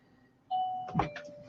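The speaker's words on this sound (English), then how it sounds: "Sorry, that's my doorbell." A home doorbell rings nearby as a short electronic ding-dong chime, two clear tones ringing out alone in a quiet room.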